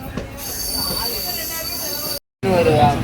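The Tirunelveli–Tambaram Pongal Special Fare Express rolls along the rails with a steady metallic wheel squeal and hiss, loud and close, cut by a brief silent gap before the rumble returns.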